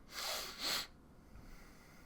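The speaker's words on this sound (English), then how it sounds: "Do you think my sniffles are loud?" A single sharp, breathy sniffle with a short double push of air, quiet and close, followed by near silence.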